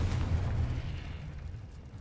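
A Confringo blast spell from the Hogwarts Legacy video game goes off as a deep, rumbling explosion that fades slowly into a low roar, with no talk over it.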